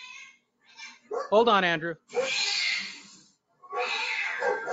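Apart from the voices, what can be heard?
cats fighting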